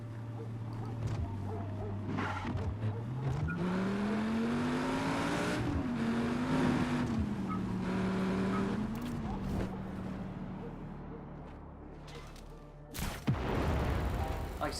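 In Just Cause 3, a racing car's engine revs and rises in pitch through a steady drone, with tire skids and a sharp crash-like hit near the end, all loud and close.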